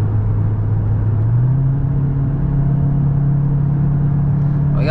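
A Cupra car in sport mode, held at full throttle while its turbo struggles to build pressure, drones loudly and steadily from inside the cabin, with the engine note climbing slightly early on and then holding flat.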